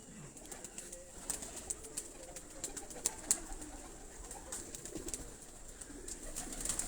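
Flying pigeons kept in a loft coo softly and repeatedly in a quiet setting, low murmuring calls at close range with occasional small chirps and no talking.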